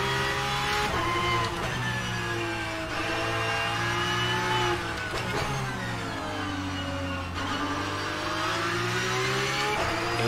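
Porsche 992 GT3 Cup race car in the rFactor 2 sim, its engine revving hard and climbing through gears with clear pitch sweeps and shift breaks, loud and close with no talk.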